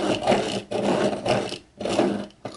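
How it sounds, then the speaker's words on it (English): A hand-crank pencil sharpener grinds through a hard colored pencil in repeated rasping strokes, each turn a scraping woody rub with brief pauses between, close and fairly loud. "I'm really having to hold onto the sharpener"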